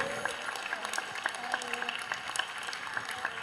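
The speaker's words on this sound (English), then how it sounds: "Let us give your parents a round of applause." An indoor graduation crowd gives parents a steady round of clapping, with dense, even hand claps throughout and some crowd murmur beneath.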